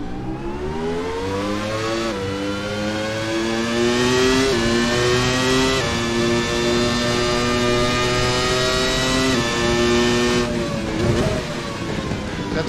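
A Williams FW19 Formula 1 car's engine in Assetto Corsa, revving loudly and steadily up and down through gear changes, a high harmonic whine shifting pitch several times over a sustained drone, alone without talk.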